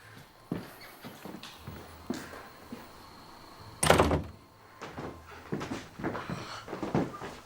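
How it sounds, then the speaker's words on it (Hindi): A door shuts with a loud thunk in the middle of scattered footsteps and softer knocks from a room indoors, and no one speaks. "बस दरवाजा बंद कर देना।"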